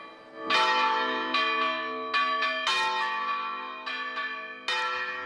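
Church bells ring out loud and close, several strikes overlapping in a rich, sustained peal that keeps sounding throughout.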